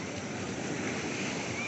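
Ocean waves on a beach, a dense, continuous roar of surf mixed with wind buffeting the microphone, steady and fairly loud for the whole moment.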